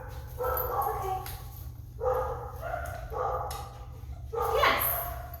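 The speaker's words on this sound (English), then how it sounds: "All the other dogs started barking." Several dogs in a kennel bark in scattered bursts at moderate distance, with yips mixed in, and a person talks between and over the barking.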